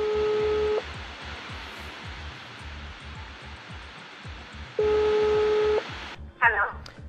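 Telephone tones sound as a call is placed, with steady beeping tones at the start and again midway, then a brief burst of ring or dial tones, over a low noisy line hum.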